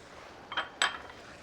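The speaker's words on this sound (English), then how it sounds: "And I'm stirring that together" Spoon knocking against a pan while stirring green chili into matar paneer, two short clinks about a quarter second apart over a quiet kitchen background.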